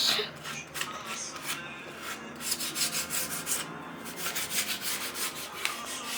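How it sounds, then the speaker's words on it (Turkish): Steady rhythmic rasping strokes of sandpaper on wood, close and moderately loud, with soft music underneath. "babam şimdi e, tahtaları zımparalıyor"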